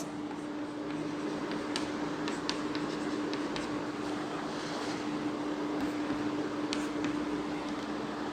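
Chalk or marker scratching across a board as genetics notation is written out during a lesson on Drosophila melanogaster, soft intermittent strokes over a steady hum and background noise, with no voice.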